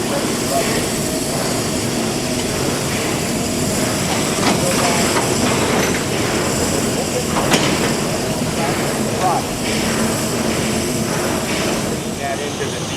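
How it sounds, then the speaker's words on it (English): The Walt Disney World Railroad train rumbles and clanks steadily as it backs up at the roundhouse, a continuous loud mechanical wash with a few sharp clicks, with people talking over it. "Then they'll start backing up the train and getting ready to run."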